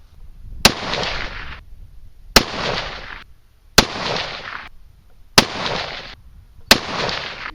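A rifle loaded with 46.8 grains of CFE223 fires five evenly spaced shots, each a sharp loud crack trailed by a long echoing decay.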